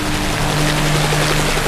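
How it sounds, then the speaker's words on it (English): A helicopter passes overhead as a loud, steady, broadband rotor and engine roar with a low hum, filling the whole moment without talk. "It's just a helicopter"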